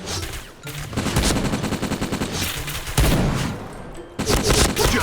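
Gunfire in the video game Point Blank: loud, rapid automatic bursts that come in several dense volleys with short pauses between them.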